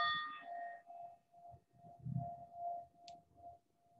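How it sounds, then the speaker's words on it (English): A single bell rung to open a quiet meditation, its steady ringing tone sustained and fading over several seconds in an otherwise still room. "I'm going to have this bell go off."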